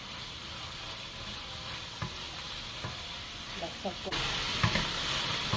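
Garlic and vegetables stir-frying in a pot, a steady broad sizzle and hiss with a few clinks of stirring, growing louder near the end as more goes in, while a person talks over it.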